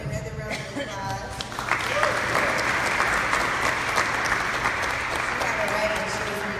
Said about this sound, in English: Let's give your Congresswoman another round of applause.